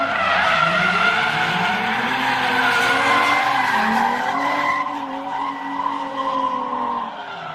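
Drift cars lapping at a grassroots drift competition, engines wailing and tires screeching in long continuous skids, loud and close, with revs rising and falling through transitions.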